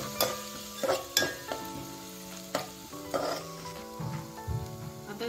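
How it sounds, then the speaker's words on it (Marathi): Ground ginger, garlic and green chilli paste frying in oil for rice solane bhat, with a crackling sizzle and repeated metallic clinks and scrapes of a spoon stirring in the pan. "आता याच्यामध्ये मी हे वाटण टाकून घेते, आलं लसूण मिरची बारीक केलेलं, ते पण छान असं भाजून घ्यायचं तेलामध्ये"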